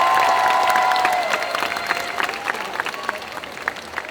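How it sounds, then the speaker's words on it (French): An audience at a cosplay contest claps, the applause full at first and then thinning into scattered claps and a faint crowd murmur. "Est-ce qu'on peut encore applaudir un petit peu Claire, s'il vous plaît?"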